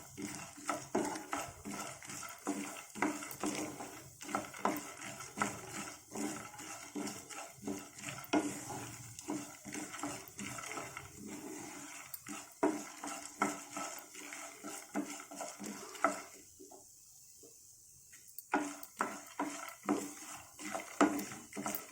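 Green chillies and ginger pieces frying in a pan for a chutney, with repeated clinks and scrapes of a spoon stirring against metal over a faint sizzle, pausing briefly near the end.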